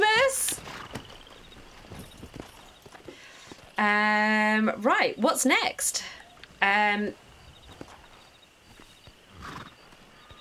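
A horse in the Western video game Red Dead Redemption whinnies loudly twice over quieter clip-clopping hooves, with someone talking briefly near the start.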